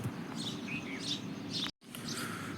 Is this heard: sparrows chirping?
yes